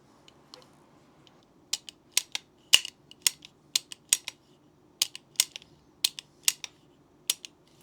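Small metal clicks and ticks as an Allen key works a screw out of a gas blowback airsoft rifle, about a dozen sharp, close taps in an irregular rhythm over a faint low hum.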